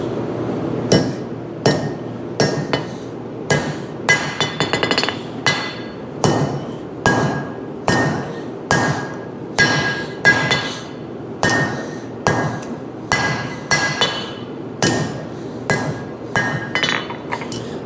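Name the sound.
hammer forging a honesuki knife blade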